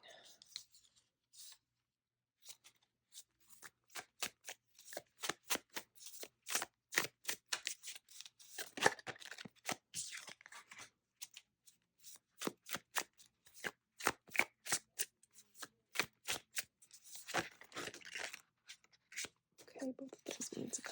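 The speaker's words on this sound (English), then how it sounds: "And now we're doing the shuffling process and the choosing process." Tarot cards being shuffled by hand, a steady run of crisp riffling flutters and slaps that comes close and fairly loud, with a few brief pauses and a rustling rise near the end.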